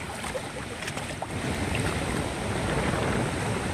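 Steady wind buffets the microphone with a broad rushing roar, growing slightly stronger midway, with no voices.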